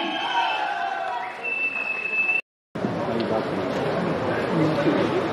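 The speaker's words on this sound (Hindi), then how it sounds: "एक बार जोरदार तालियां" A crowd at a Marathi film announcement event breaks into sustained applause, steady clapping filling the room with a brief cut partway through.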